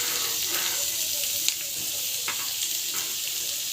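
Onions going into well-heated oil give a soft, continuous sizzle with a few brief clinks and scrapes scattered through it.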